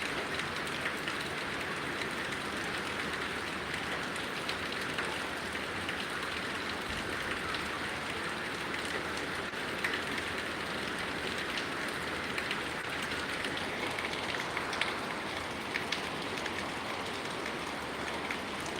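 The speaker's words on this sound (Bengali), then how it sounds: "বর্তমান এখানে নোয়াখালী বৃষ্টির পরিমাণ দিন দিন বৃদ্ধি পাচ্ছে" Steady rain falls in Noakhali during flooding, a dense even hiss on surfaces that holds without break from start to finish.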